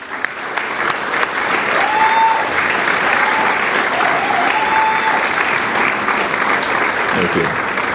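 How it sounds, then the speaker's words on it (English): A crowd gives school staff a round of applause at a primary school graduation, loud, continuous clapping from many people, with faint voices briefly audible underneath. "a round of applause."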